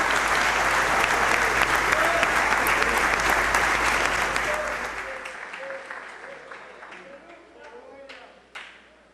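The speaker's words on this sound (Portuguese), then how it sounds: "Pode aplaudir a Jesus" A church congregation breaks into loud, dense applause that holds steady for about four seconds, then thins into scattered, fading claps with a few late single claps near the end.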